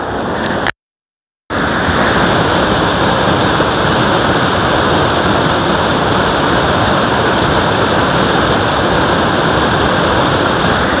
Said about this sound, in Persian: چند دقیقه صدای آب بشنوید